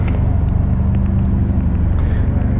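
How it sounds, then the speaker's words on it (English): Cars driving through a street, a loud, close, continuous engine and tyre rumble as vehicles pass, with faint sharper noises above it and no clear voices. "We've got cars coming through."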